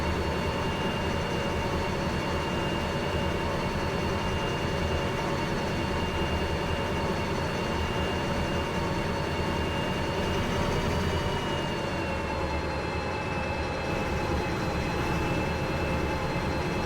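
Train running in the Derail Valley railway simulator game, a steady loud rumble with constant humming tones and wheel noise that continue without pause for the whole stretch.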